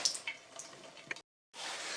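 Water running and dripping from a tap after the hot water valve is opened in a house being readied for winter, with a water heater in the basement. A close, steady splashing flow that stops abruptly, then resumes as a broad hiss.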